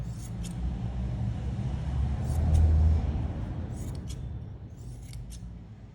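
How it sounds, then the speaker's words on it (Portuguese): Scissors snip through fabric scraps during a craft project, giving a few quick, crisp cuts over a low steady background rumble, close and fairly quiet. "Aí é só a gente cortar, hein? Corta com cuidado"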